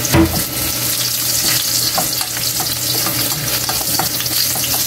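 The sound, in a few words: garlic sautéing in hot reused cooking oil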